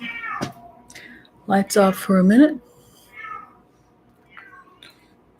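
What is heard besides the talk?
cat meowing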